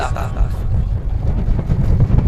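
Outdoor wind gusts at a religious lecture, buffeting the microphone with a continuous loud low rumble and roar that stays steady throughout, with no clear speech over it.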